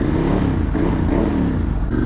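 A Ducati 996 motorcycle engine pulls away on a road trip, a steady close, loud low rumble throughout with the pitch rising and falling slightly under gear changes.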